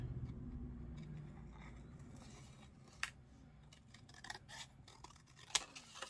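Scissors cut around stamped paper words in a quiet craft setting, producing soft intermittent snips and rustles of paper over a low background hum.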